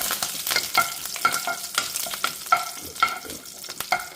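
Cumin, mustard seeds and curry leaves crackle in hot oil while a spoon stirs them, giving steady close sizzling broken by sharp pops and scraping strokes, with no voices.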